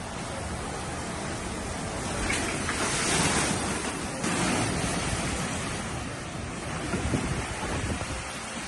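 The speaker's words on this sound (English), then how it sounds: "we saw the footage of waves crashing through the patio doors" Ocean surf roars with broad, rushing swells and heavy wind noise buffeting the microphone throughout.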